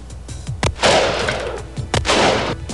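Two loud gunshots are fired at a Lexgard bullet-resistant sheet, each a sharp crack followed by a long broadband roar, with a few softer clicks and thumps before and between them and no talking.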